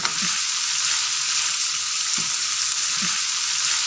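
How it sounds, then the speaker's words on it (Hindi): Vegetables with capsicum and carrots sizzle loudly and steadily in a hot pan, close up, with three soft knocks of a stirring spoon through the constant frying hiss and no speech. "अब इसमें शिमला मिर्च ये डाल के इसको मिक्स करेंगे अच्छे तरीके से"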